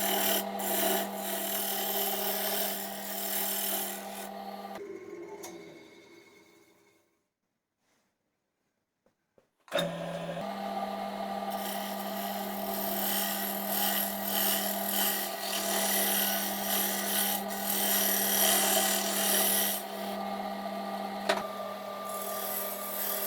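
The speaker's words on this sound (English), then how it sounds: "This piece of wood is turning really well." A piece of yew spins on a wood lathe while a homemade round carbide scraper rasps steadily against it. The cutting drops out into near silence for a few seconds and then resumes. It sounds close and alone, with no talking.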